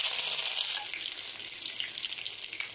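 Curry leaves, cumin seeds and dried chillies sizzle in hot oil, a loud bright crackle that flares at the start and then settles into a steady hiss with scattered pops.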